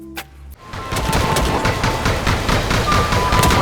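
Rapid gunfire from a dragon shooting down enemies in the on-rails shooter Panzer Dragoon Remake, a dense, loud, sustained barrage of game shots with synth music underneath after a brief quieter opening.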